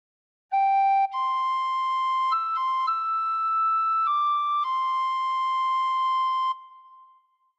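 Tin whistle plays a phrase of Amazing Grace as pure, clear sustained notes, close and alone, ending on a long held tone that fades out.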